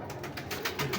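Pigeons of a big-breeder fancy strain coo in a soft, pulsing rhythm, several close cooing notes repeating over about a second with light background noise.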